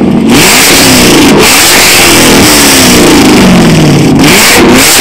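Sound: car engine revving

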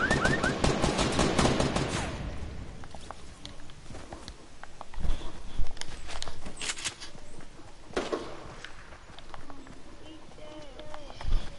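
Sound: gunfire in the video game Fortnite

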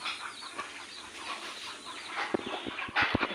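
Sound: chickens clucking on a free-range poultry farm

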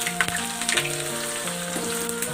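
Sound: bay leaves and sliced onions frying in oil

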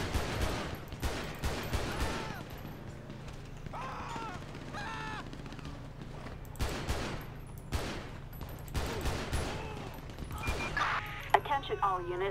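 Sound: gunfire in a shootout, from the video game LSPDFR

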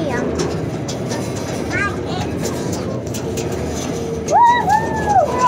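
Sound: riding a small farm train at a pumpkin farm

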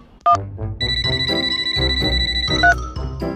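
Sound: phone ringing for a call

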